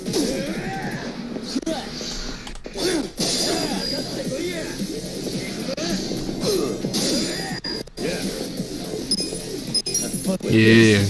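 Pigeons cooing and flapping during a street brawl in the video game Yakuza: Like a Dragon, with chaotic fluttery bird sounds, thumps and crash hits mixed under busy game audio.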